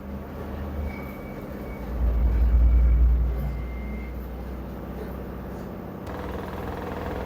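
An LG washing machine in its spin cycle roars with a deep, steady mechanical drone like a jet engine, swelling louder for a couple of seconds before settling back to a constant hum, with no talk over it.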